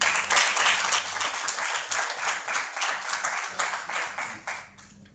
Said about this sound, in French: S'il vous plaît, Madame Tosu, sous vos applaudissements.